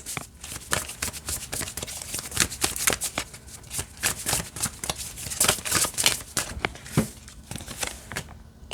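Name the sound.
shuffling a deck of cards overhand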